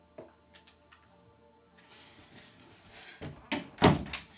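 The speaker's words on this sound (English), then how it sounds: "Sorry, I need to close the door." An indoor door is pushed shut after faint shuffling and handling noises, ending in a couple of close, dull thuds as it closes.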